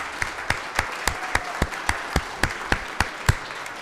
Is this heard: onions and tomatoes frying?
no